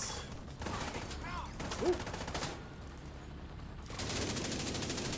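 Shotgun fire rings out in a fast-paced online shooter as opponents rush in, sharp blasts breaking over background game noise while a player reacts aloud.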